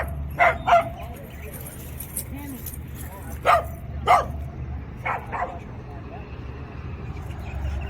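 Dogs at a dog park give several sharp barks in uneven clusters over a few seconds, fairly near, with people talking faintly and a low background rumble throughout.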